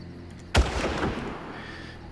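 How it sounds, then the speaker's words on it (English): A rocket launcher fires in the video game Far Cry 1: one sharp, loud blast followed by a rumbling boom that trails off over a couple of seconds, with no talk. "get rid of this guy with the rocket launcher"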